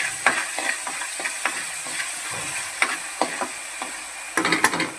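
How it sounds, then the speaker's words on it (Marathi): Ginger garlic paste sautéing in a pan for a black pea curry, with a constant sizzle broken by quick, repeated scrapes of a spoon stirring, close up and without talk. "आलं लसूणची पेस्ट थोडी हलवून घेऊया।"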